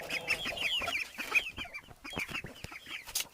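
Chickens cluck steadily in a henhouse early in the morning, several birds overlapping at close range in a busy, chattering flock with no talk over them.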